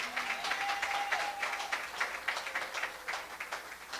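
A church congregation applauding the Lord, with steady rhythmic clapping heard at moderate distance under a faint tonal background.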